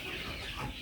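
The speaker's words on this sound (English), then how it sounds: "Those are the chickens there." Chickens cluck softly and continuously in a brief, fairly faint outdoor stretch while being herded up, with no talk.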